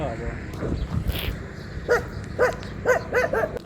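A dog barks several times in quick succession from a short distance outdoors, the barks standing out over steady background rumble and noise.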